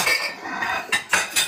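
Cutlery and dishes clink together in a short clatter of metal and crockery, close by, ending in a few distinct sharp knocks.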